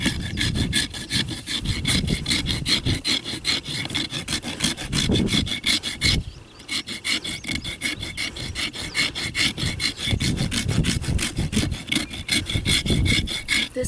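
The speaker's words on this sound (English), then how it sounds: "now we are gonna go over the top with the radius rasp" A Radius Rasp 2 Pro files over the top of a horse's hoof in loud, close, rhythmic back-and-forth strokes, with a short pause near the middle before the rasping picks up again.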